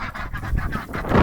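Ducks settling into a new enclosure honk and quack loudly at close range in a quick run of overlapping nasal calls.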